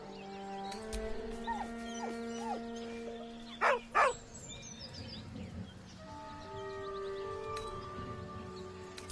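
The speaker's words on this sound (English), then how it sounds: "With a deep, heartbroken whine, the dog bows his head." A dog in Baldur's Gate 3 lets out two short, sharp whining cries close together, standing out clearly above soft sustained background tones.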